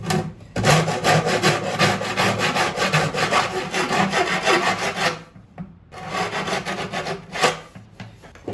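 A very thin hand saw cuts wood on a bağlama in fast, steady back-and-forth rasping strokes, close up, pausing briefly before resuming the sawing.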